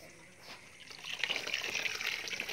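Water runs steadily, growing louder and fuller after the first second, a close splashing hiss like a tap or hose pouring.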